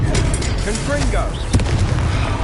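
A Confringo blasting-spell explosion in the video game Hogwarts Legacy, heavy booming impacts mixed with voices speaking over the action, fairly loud and close.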